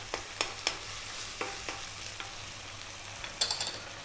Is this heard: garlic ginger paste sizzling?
yes